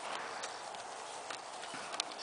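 Hooves of a horse just out of a trailer clip-clop in a steady, fairly close walking rhythm, with soft background noise and no talk.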